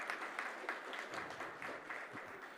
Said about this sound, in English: please join me for a round of applause for the Minister.